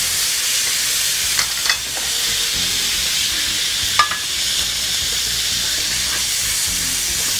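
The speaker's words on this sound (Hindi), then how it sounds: "इसको हल्के हल्के सौते करेंगे।" Garlic sautéing in oil for vegetable manchurian, with a loud, steady hissing sizzle throughout and a few faint clinks and stirring scrapes at intervals.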